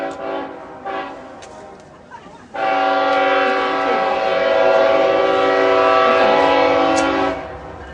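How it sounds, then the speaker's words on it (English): Train rolling past at a Black History event in the C. Williams Rush Museum area: a loud, steady horn-like tonal roar builds suddenly and holds for several seconds before fading, with faint background chatter beforehand. "since the train is coming, we'll talk later."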